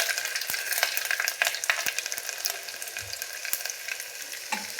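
Garlic sizzles in hot oil with cumin and mustard seeds for a kadhi tempering, a steady close crackling hiss with sharp pops and spatters scattered through.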